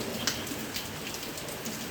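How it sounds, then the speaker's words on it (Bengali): Rain falls steadily on a surface during a downpour, a dense even patter with a few sharper drops, brief and without voices. "বৃষ্টি পড়ছে"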